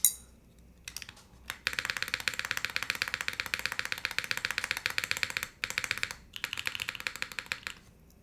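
Rapid clacky keystrokes on a GSK 910 mechanical keyboard fitted with ABS keycaps, a dense close-up typing rhythm with brief pauses, after a few isolated key taps.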